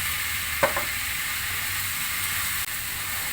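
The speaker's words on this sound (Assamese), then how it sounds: "আপোনালোকক দেখাই আছো ৰ'ব মই কেনেকৈ ভাজিছো বেতগাজটো" Cane shoots fry with potato and egg in a pan of oil, giving a constant loud sizzle with a brief clatter of stirring near the start.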